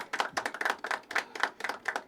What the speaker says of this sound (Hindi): होस्ट पे आ गए, एक बार जोरदार तालियां बजाओ पहले।